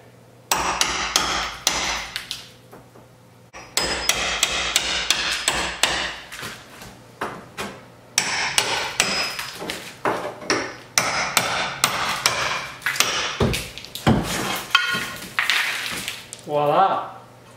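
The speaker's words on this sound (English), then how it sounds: "I'm just using this chisel here so I don't wreck it." A hammer strikes a chisel again and again to pry wooden trim off a fireplace, making sharp, close, irregular blows in quick bursts, with a person talking between some of the strikes.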